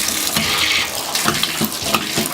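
A home shower runs on cold, its water spray rushing steadily and close with small splashing fluctuations, no voices present.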